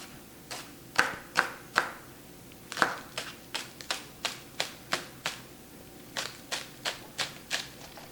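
A knife slicing through six green onions on a cutting board for wonton soup, giving a run of sharp, crisp chops in uneven bursts, close and clear with no talking.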